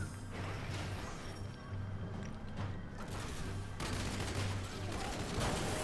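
Cannon and weapon fire in the video game Knack 2 on very hard difficulty in the City of Atheneum, a dense barrage of booming blasts and mechanical clatter running continuously and loudly.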